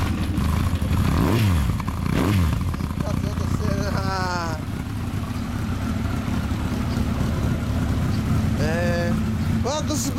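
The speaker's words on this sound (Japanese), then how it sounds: "あと吉村のエンジン音聞かせてもらえますか。" A 2000 Honda X4 (SC38) motorcycle fitted with a Yoshimura exhaust revs its engine in repeated sharp rising bursts, loud and close, with people talking in the background throughout.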